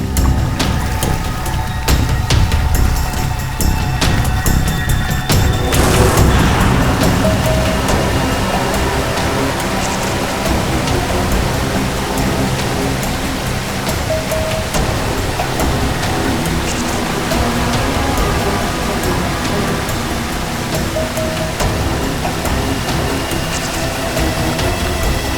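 A waterfall rushes with a loud, continuous, hissing roar of falling water, steady throughout with a brief louder swell early on.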